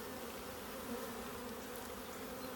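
Honeybees swarm over a natural-wax comb frame while a hive is moved from a nucleus box into a ten-frame hive, giving a steady, dense buzzing close by with no voices.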